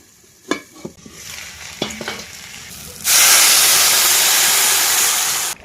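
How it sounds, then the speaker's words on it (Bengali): A vegetable curry seasoned with salt and turmeric bubbles in a pan in a village kitchen. A few soft clinks and stirs come first, then a loud, steady sizzling hiss swells and holds to the end. "তরকারি বন্ধুরা ফুটে উঠেছে"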